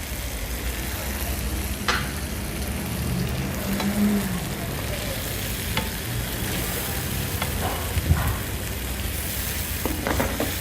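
Seafood paella simmers in a pan as cream is added, giving a steady soft sizzle and bubbling with occasional stirring scrapes and clinks, all fairly quiet and close.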